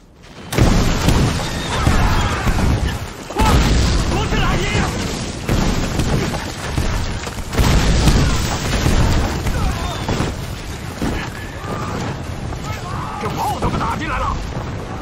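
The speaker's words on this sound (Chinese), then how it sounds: "这炮怎么打进来了？明军的大炮阵地前移了" Cannon fire in a Ming dynasty historical drama, with heavy booming explosions and rumbling impacts repeating over about fifteen seconds, loud and dense, with shouting voices mixed in.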